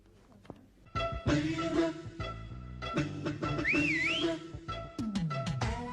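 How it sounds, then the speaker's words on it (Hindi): A wolf whistle, a rising then falling two-part whistle heard once midway, set among sudden loud bursts of comedic sound effects and background music. "अरे ये सीटी किसने बजाई?"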